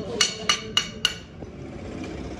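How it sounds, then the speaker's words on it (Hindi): Mechanic working on a motorcycle engine during a bike service, producing four sharp metallic taps at an even rhythm, then a fainter knock over a low background hum. "इंजन कसा रहा"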